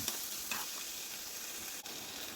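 Crushed black pepper sautéing in a masala for a green peas stew curry, giving a steady, close, soft sizzle with faint stirring scrapes throughout and no talking.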